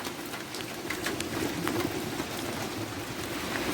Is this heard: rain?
yes